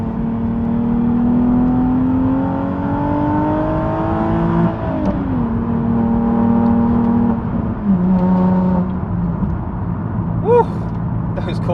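A Nissan 370Z Nismo on Continental SportContact 6 tyres drives along a bumpy road with the driver heel-and-toeing through gear changes, the engine droning and revving up and down steadily from inside the cabin.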